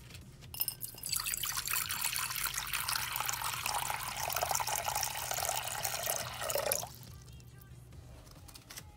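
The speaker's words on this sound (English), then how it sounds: "So we have to fill up his water bowl so he has some fresh water" Water runs steadily from a tap into a reptile's water bowl for about six seconds, then shuts off, leaving quiet background.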